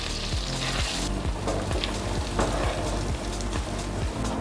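Chili flakes sizzling in melted butter in a pan, a loud, close, continuous crackling fry with dense popping and spattering, no voices.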